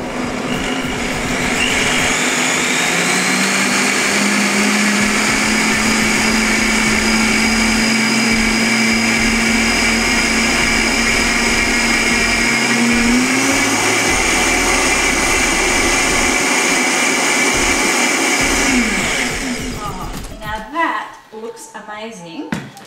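A kitchen blender runs steadily on a batch of hot soup, a loud continuous motor whir that holds for about twenty seconds, shifts pitch partway through, then winds down and stops.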